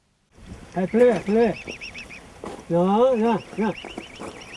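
Swans calling at a village pond as local villagers feed them: a few loud, near honking calls in two bursts, with a voice talking in the background.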